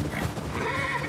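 A horse neighs and whinnies loudly and up close in the post-apocalyptic video game The Last of Us Part II, with hoof clip-clops mixed in, all within about a second and no talking over it.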